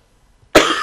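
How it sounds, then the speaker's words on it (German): A single sharp cough bursts out abruptly and trails off with a short breathy tail, heard during a Fifa 17 football match commentary. "Hör mal auf zu husten jetzt."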